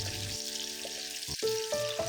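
Sichuan peppercorns and dried chilies stir-fry in a wok over high heat, with a steady close sizzle broken by sharp scraping knocks of the spatula against the pan.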